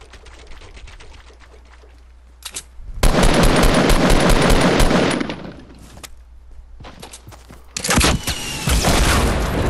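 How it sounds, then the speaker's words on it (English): Loud, rapid gunfire in the battle royale game Fortnite, with a steady rattle of shots at first, then two long, dense, close bursts of automatic fire, and no talk. "Where am I getting shot from?"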